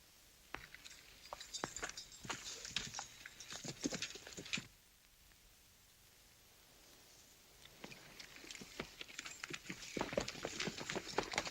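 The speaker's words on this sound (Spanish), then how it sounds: "Voy a montar a mi caballo Thunderbolt" Rapid, irregular hoofbeats clatter close by, fade into a brief quiet stretch, then return as a busy clip-clop of trotting horses.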